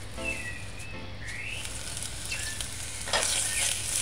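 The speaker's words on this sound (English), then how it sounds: "Allow the oil to get hot somewhat, a few seconds." Cooking oil heating in a pan for okra codfish fritters gives a steady, soft sizzling hiss with faint crackles throughout, close and moderately quiet, with no talking.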